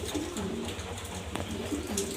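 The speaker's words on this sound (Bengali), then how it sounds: "এটা একটা মালপ্রেস ব্ল্যাক কালার মাদি কবুতর" A female Malpress black pigeon coos close by in soft, repeated low throaty calls.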